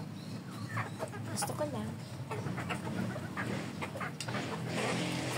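Backyard chickens, a flock of about a dozen, cluck and murmur faintly in the background while someone talks over them.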